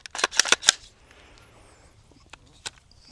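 Several 9mm gunshots fire in quick succession during an outdoor farm ballistic test of grain, sharp cracks close together, followed by quieter surroundings and a couple of isolated later reports.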